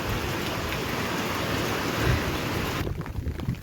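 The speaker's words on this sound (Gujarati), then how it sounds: "આજ તો બહુ વરસાદ છે" Heavy rain pours down in a dense, steady hiss of drops beating on surfaces near a banana plantation path, continuous and fairly close, easing slightly toward the end.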